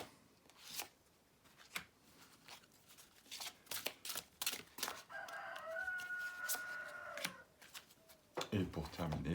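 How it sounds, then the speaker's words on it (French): A pet rooster crows in a drawn-out call midway through, set among sharp card-shuffling snaps and a low murmuring voice in a quiet room. "avec mon coq qui fait toujours ses vocalises"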